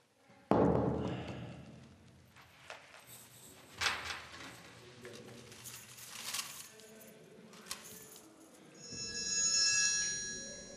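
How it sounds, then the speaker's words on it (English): A telephone rings with a bright electronic tone toward the end, preceded by scattered thumps, taps and clatter in a quiet room, with no talking. "this ringing phone reminds us that the year is 2008"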